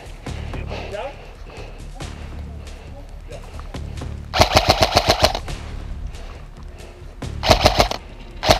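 Airsoft guns fire in rapid bursts during a compound assault, two loud clusters of quick successive shots cutting through an outdoor field with voices and movement in the background.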